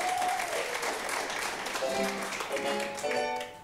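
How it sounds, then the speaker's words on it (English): Sustained applause from an audience, dense clapping throughout, with a few tonal notes and voices faintly mixed in before it tapers off. "Let's give a round of applause to Canute, who's over there on the keyboard."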